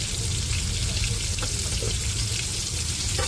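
Chopped tomatoes with salt frying in a pan as the base for lentils cooked with a fish head, giving a steady, close, even sizzle that fills the whole moment with no talking.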